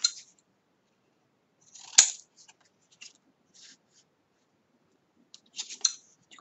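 Scissors snip through a handmade personalized bookmark in a few short, crisp, close cuts separated by quiet gaps.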